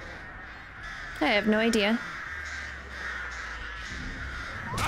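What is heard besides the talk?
crows cawing in a video game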